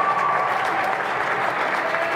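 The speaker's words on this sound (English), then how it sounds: "There's big applause here." Crowd applause after a shot at a squash match at the Namibian Open, a steady, dense wash of clapping from many spectators that holds evenly throughout.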